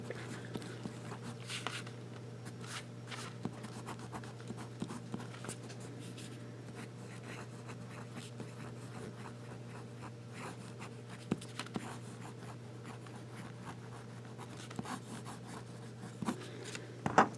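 Wet fountain pen nib scratching across paper in a field notebook, a soft close rasp of strokes with small taps and pauses over a steady low background hum.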